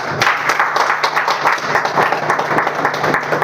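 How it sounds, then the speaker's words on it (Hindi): A seated audience claps for themselves at a Hindi-language talk: dense, steady applause from many hands, close and loud, running unbroken without speech. "चलिए, वेरी गुड, एक बार और ताली बजा लें अपने लिए"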